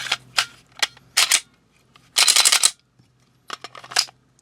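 Dry mechanical clacks and snaps come from a function check of a reassembled Walther PDP pistol: short clusters of slide and trigger clicks, then a longer rattling run, then a few more sharp clicks, all close and alone.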